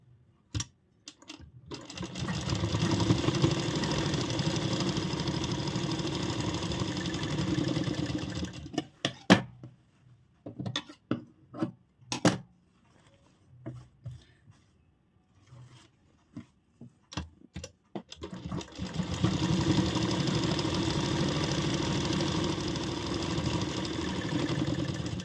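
A sewing machine stitches the back tucks of an angrakha-pattern umbrella frock, running in long steady whirring bursts broken by a quiet pause with clicks and handling sounds.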